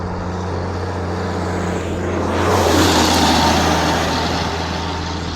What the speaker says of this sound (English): Yep, there goes a helicopter.